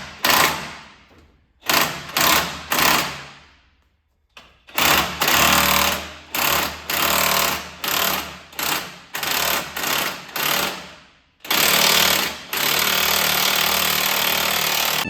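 An impact wrench drives a gear puller to force a flat belt pulley off the spline shaft of a Minneapolis Moline 4 Star tractor, loud rattling hammering bursts repeated about a dozen times, separated by brief pauses, then one sustained run.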